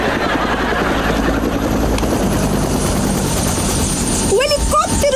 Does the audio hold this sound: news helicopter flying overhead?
yes